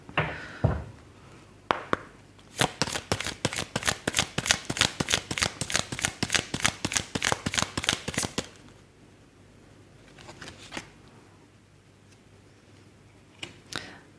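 Tarot cards handled and laid out on a table: a fast, steady run of crisp card snaps and taps lasting several seconds, then a few scattered soft placements, all close and fairly quiet.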